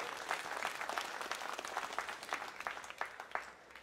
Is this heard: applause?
yes